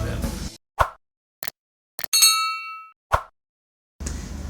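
A bright bell-like ding rings out with a shimmering, decaying tone among several short plops and clicks separated by silence.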